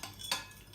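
Brief clinks and scraping of a utensil against a bowl while crab curry ingredients are stirred together, one sharper knock near the middle, quiet and close.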